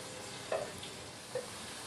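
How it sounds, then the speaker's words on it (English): Onions frying in hot oil make a steady, moderate sizzle that stays even across the short stretch, with two soft utensil taps a little under a second apart. No voices. "Once your oil is heated up,"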